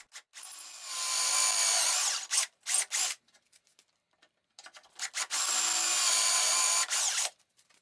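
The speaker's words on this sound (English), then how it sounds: "And I drill 2 holes." A drill bores two dowel holes in a wood strip held in a clamped doweling jig: two long, loud, steady whining bursts, separated by short rattling clicks and a quiet pause.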